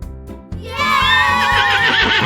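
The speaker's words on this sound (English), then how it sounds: "Horse." A loud, close horse neigh rises after a brief low rumble and holds as a long, wavering whinny with no talking over it.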